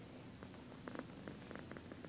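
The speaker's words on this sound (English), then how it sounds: "I don't know if you can hear him purr or not" A faint, close cat purr rumbles softly and continuously, with light irregular rustles over it.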